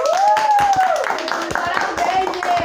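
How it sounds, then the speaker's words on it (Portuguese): Several people applaud in a kitchen after a cheese dish comes out bubbling, giving a quick patter of clapping mixed with cheerful voices talking over it. "Merece uma salva de palmas, né?"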